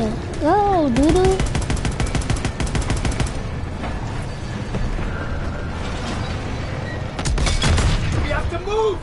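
Machine gun fire during a tank battle video game, rapid bursts of gunfire with mechanical clanks and creaks, a burst early and another near the end, while voices talk over the action.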